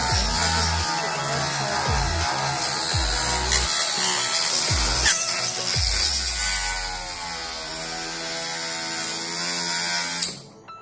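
A small homemade high-speed mini rotary tool whines and grinds, with repeated bursts as it drills and cuts into material, close and loud throughout, ending abruptly.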